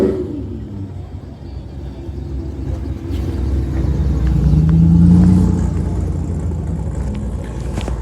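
Mercedes-AMG car engine at a cars and coffee meet, a deep low rumble that swells into a brief rev midway before settling back to a steady idle, close by with outdoor background noise.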